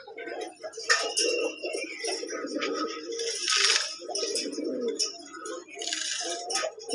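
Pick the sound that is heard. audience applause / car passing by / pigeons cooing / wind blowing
pigeons cooing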